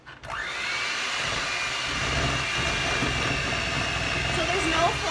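An electric mixer whirs on continuously as it mixes flourless peanut or almond cookie dough, a steady close motor hum that starts abruptly and stays level, with faint bits of talk around it.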